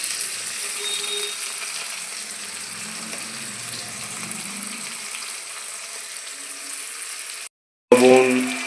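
Chopped ginger and garlic fry in hot oil in a pan, a steady close sizzle that runs for several seconds before a brief cut and a louder burst of hiss and clatter at the end.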